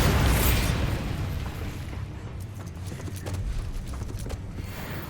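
A Bombarda blast spell in Hogwarts Legacy bursts at the start, loud and close, then fades into crackling debris, scattered creaks and lingering rumble.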